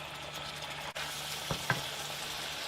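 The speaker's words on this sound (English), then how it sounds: "In the meantime, we keep frying our chicken." Chicken pieces frying in a stir-fry pan, a steady close sizzle with a couple of brief stirring clinks.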